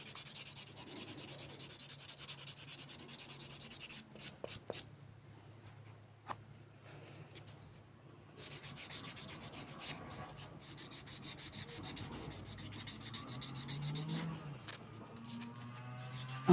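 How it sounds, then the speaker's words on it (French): A nail buffer rubs across a fiber rubber gel fingernail in steady, close rasping strokes, with a short quiet pause midway before the buffing resumes. "Ensuite, je vais passer un petit coup de buffer."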